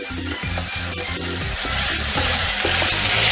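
Vegetables sizzling in a hot pan get a quick stir, a close continuous fry hiss over a low rhythmic background hum, with no talking.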